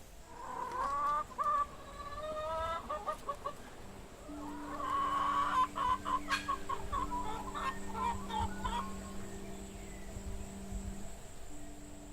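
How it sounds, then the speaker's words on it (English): Backyard hens cluck and squawk in a run of close, repeated calls, some longer drawn-out cackles among them, with faint background noise and no talking. "It's something about a hen."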